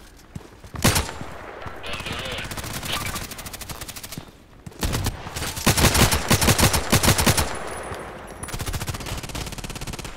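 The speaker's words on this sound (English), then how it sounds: "Oh, new weapon, 9A91." Bursts of automatic fire from a 9A91 compact assault rifle in the shooter game Contract Wars, several loud rapid volleys close by, separated by brief pauses, with battle noise between.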